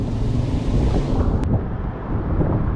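Strong typhoon wind buffets the microphone in a steady, loud roar with rumbling gusts, broken by a brief sharp click midway.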